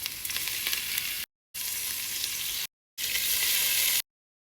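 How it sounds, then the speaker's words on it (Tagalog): Tofu fries together with glazed onions for lomi, a loud, close, hissing sizzle that breaks off twice into short silences and then resumes, with no one speaking. "kapag nag-glaze na ang ating sibuyas, isama na natin iprito ang ating tokwa"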